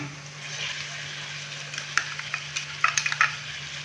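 Chopped tomato and green chilies frying with onions in a pan, a steady soft sizzle with a low hum beneath and a few sharp spatula scrapes and clicks toward the end.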